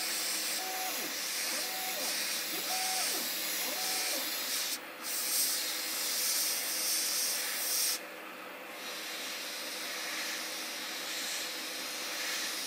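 Brown paint is sprayed onto a robot figure as a steady, close airbrush-like hiss that carries on almost without a break, with a faint whistling tone early on and brief dips where the spray pauses.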